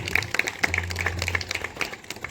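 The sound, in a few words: applause welcoming a guest at a restaurant meetup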